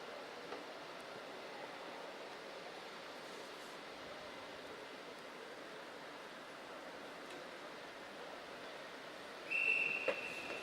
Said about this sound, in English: The whistle goes now that we're all together.